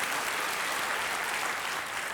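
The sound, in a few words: audience applause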